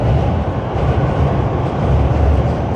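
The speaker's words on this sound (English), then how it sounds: "That does sound like a train." Train passing in Tokyo's Ginza district, a loud continuous low rumble with rhythmic rolling pulses that stays strong and close throughout.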